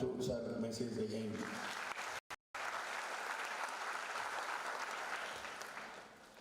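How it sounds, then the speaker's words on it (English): A conference audience claps together in sustained, even applause, with a voice audible at the start and the clapping tapering off toward the end. "I request all participants to give a big clap"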